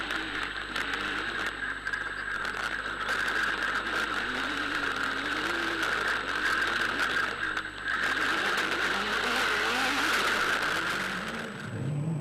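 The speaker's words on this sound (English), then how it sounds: "Matthews and Burke finally get close to Rates and Hreiling, who sportingly move over for the quicker special vehicle" Rally cars race flat-out on a dirt special stage in the Nkomazi 450 event, with loud, continuous engine roar and shifting revs that hold steady for about twelve seconds before trailing off at the end.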